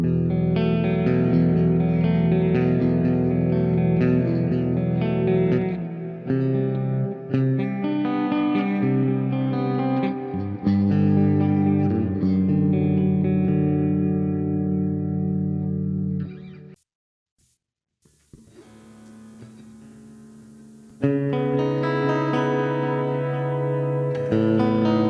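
An electric guitar built entirely of pine plays clean tones through Neural DSP amp software, with sustained chords and ringing notes and a lush effects sheen. It drops to near silence briefly, then resumes strumming.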